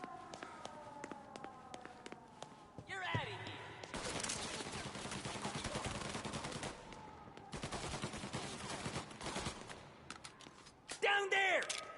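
A game shootout in Mafia: Definitive Edition: bursts of automatic and single-shot gunfire with footsteps and running, loud and close, interrupted by brief lulls, while people talk between the shots.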